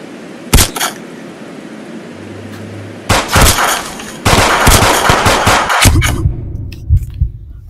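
Pistol fire in a shooter video game: sharp, loud shots in quick irregular bursts, a single early shot and then clustered volleys, with brief gaps between them.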